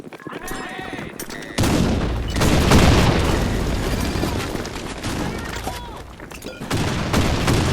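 A grenade blast in the shooter game Blackshot, a loud booming explosion that erupts suddenly after a quieter stretch and rumbles on for several seconds amid gunfire.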